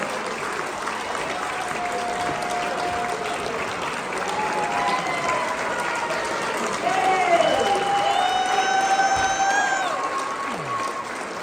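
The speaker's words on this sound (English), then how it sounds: "let's give a round of applause for all of our 2026 nominees" An audience at a regional real estate agents' annual meeting and installation applauds and cheers for the award nominees, a broad, sustained roar of clapping that swells slightly partway through, with voices mixed in.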